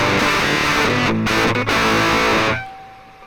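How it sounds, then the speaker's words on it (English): Electric guitar through an Airwindows Cabs cabinet simulation in a JCM 800 style voicing: a loud, gritty distorted chord sustains with a brief choppy break, then stops and fades. "That's maybe your kind of JCM 800 style sound."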